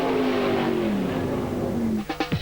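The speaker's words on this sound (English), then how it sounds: "it's the black and white car that leaps into action, and Andersson powers through again" A Pro Stock drag racing car roars down the strip at the 1999 FIA European Drag Racing event at Gardermoen, Norway, its loud engine climbing in pitch before rougher bursts at the end.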